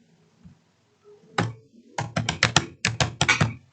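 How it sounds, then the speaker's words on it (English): Someone types a search query on a computer keyboard: a single keystroke, then a quick, close run of crisp clacking keys with short gaps, loud against a quiet room. "I will type Instagram"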